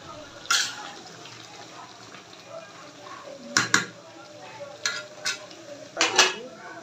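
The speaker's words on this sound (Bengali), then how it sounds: "এখন নাড়াচাড়া দিয়ে ঢাকনা দিয়ে ঢেকে দিব।" Marinated beef liver stirred in a pan, several sharp metal utensil clanks against the pan in irregular bursts over a low sizzle, with speech heard in the background.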